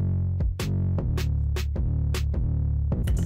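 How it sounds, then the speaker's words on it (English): Hyperpop-glitchcore beat with deep 808 bass sustained under punchy kick drum samples, joined by sharp snare hits landing in a steady repeating rhythm, loud and upfront with no voices. "And then with the 808s and the kick, it sounds like this."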